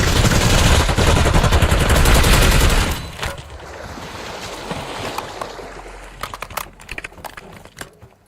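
Gunfire in Black Ops 6 Warzone, a dense loud barrage of rapid automatic shots for about three seconds, then scattered single and short bursts of shots at a lower level.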